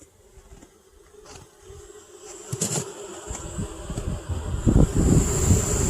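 Honeybees buzz and fan inside a hive just after an oxalic acid vapor treatment, a steady insect drone with a high whine that swells louder toward the end, with some wind-like rush and no talking.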